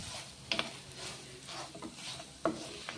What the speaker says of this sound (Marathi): हिंग टाकला की आपण याच्यावरती हा मसाला जो वाटून घेतलेला आहे तो आपण परतून घ्यायचा.